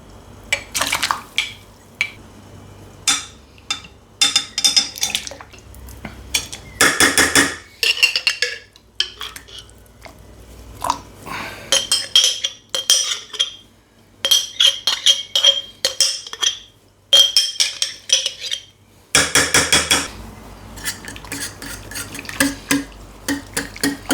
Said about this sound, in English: I'm just going to put the jam straight into this hot yeast nutrient liquid.